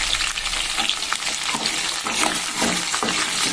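Chopped onions fry loudly in hot oil for Rayalaseema-style sambar, a dense close sizzle with stirring scrapes and no talk.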